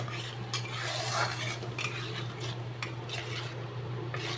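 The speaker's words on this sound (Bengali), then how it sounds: "মশলাটা ভাজা হবে" Spices with salt and turmeric stirred and fried in a pan for a fish curry, spoon scraping the pan in repeated strokes over a low steady hum and faint sizzle, close up.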